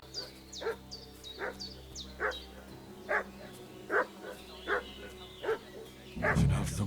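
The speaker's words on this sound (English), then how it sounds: "What's that dog making such a fuss about?" A dog barks repeatedly in the medieval video game Kingdom Come: Deliverance 2, about eight evenly spaced barks from a middle distance, ending under a low rumbling swell.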